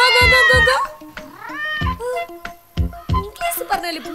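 A cat meows repeatedly, several loud close drawn-out calls with rising and falling pitch, mixed among voices in a comedy sketch.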